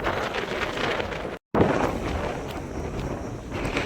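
Strong wind buffets the microphone on a hilltop, a loud rough roar with gusty swells, broken by a brief dropout of sound midway, with no talking.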